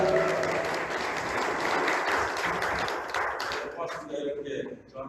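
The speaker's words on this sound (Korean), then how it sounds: "박수 부탁드리겠습니다." Sustained, fairly loud applause from a lecture audience in Dangjin, steady clapping that tapers off over about five seconds.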